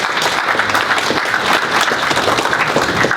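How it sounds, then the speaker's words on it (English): An audience at a crisis response presentation applauds the speakers, a dense, steady burst of clapping with a faint voice underneath. "let's give them applause"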